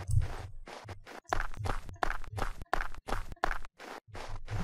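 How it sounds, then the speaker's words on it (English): Footsteps crunching on snow in a game engine test, a steady walking rhythm of about a dozen close, distinct steps with short gaps, alone without talk. "And now we have our snow sound playing as well."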